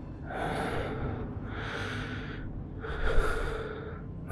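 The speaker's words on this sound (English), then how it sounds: "I was met with more breathing." Heavy, slow breathing comes over a phone line in three long, hissing breaths spaced evenly apart, close and eerie, with no talking.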